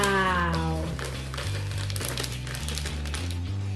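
A cake mix packet crinkles as it is tipped out into a bowl, a steady papery rustle that runs throughout under background music.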